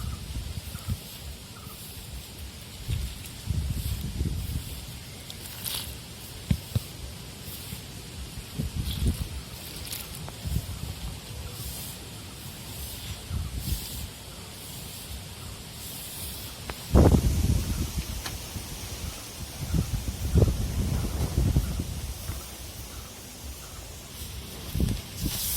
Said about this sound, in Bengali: এবার অল্প অল্প করে জল দেব আর মাখাবো।